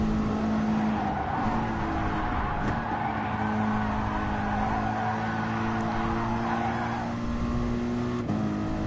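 A race car in Gran Turismo Sport driven through a corner on a time-trial lap, a steady loud engine drone with a sustained high tone, tire squeal near the end and a brief shift or lift.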